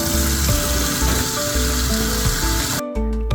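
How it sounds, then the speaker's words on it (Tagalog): Strong water gushes steadily and loudly from a tap in a campsite restroom at Lambingan Hills in Tanay, Rizal, then cuts off abruptly near the end. "Napakalakas din ng tubig nila dito sa gripo."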